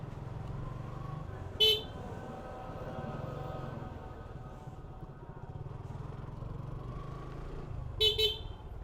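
A vehicle horn gives two short honks, one early and a louder doubled blast near the end, over a steady engine rumble of traffic close by.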